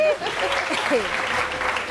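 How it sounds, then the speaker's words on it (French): A studio audience on a French television show applauds in a brief burst of clapping, with voices talking over it. "on applaudit pour l'édito"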